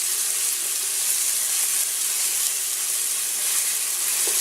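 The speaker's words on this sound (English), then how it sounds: "we saute the onions until they start to color up nicely" Onions sautéing in a pan for Greek meatball pasta sauce give a steady, soft sizzle and hiss that holds evenly throughout, close and moderately quiet with no talking.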